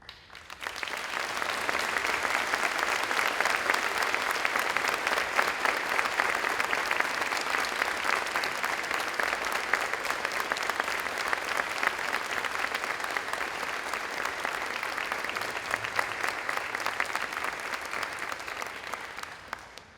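A school auditorium crowd claps for new National Junior Honor Society inductees, dense sustained applause holding steady and fairly loud for about twenty seconds before tapering off at the end.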